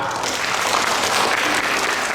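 Steady, dense applause from a Sunday school Christmas gathering at a GIDI church congregation in Puncak Jaya, filling the whole moment at even loudness with no voices standing out.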